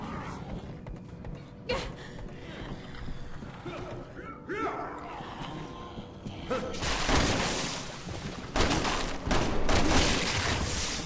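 Video game gunfire from Resident Evil 6, scattered shots and impacts amid noisy in-game action, with the sound growing busier and louder in the later part.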